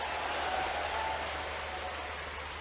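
Sustained applause from a live audience at a large state event in Bhopal, cheering for Narendra Modi, a steady dense wash of clapping held at even loudness throughout, with no talk over it.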